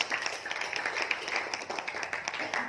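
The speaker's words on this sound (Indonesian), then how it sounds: "Kasih aplaus untuk wilayah Lamongan" Audience applause for the Lamongan region at a monitoring and evaluation meeting, a steady dense patter of many hands clapping throughout, fairly close and even in loudness.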